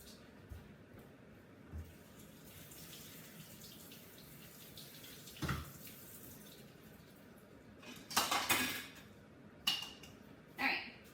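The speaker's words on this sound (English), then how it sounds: "let me rinse my vegetables" Vegetables rinsed in a strainer under a kitchen tap, with short, faint bursts of running water splashing over them amid quiet room noise.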